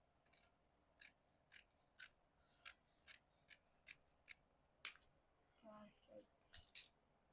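Scissors snip through churidar fabric in a steady run of crisp, close cuts about twice a second, followed by a few softer rustles and slides of the blades, with no talk over it.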